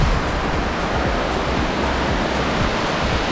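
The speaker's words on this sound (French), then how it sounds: "Et je vais vous filmer la cascade de plus près." Waterfall in a Karijini National Park gorge, a steady dense rushing roar of falling water, loud and continuous with no voices.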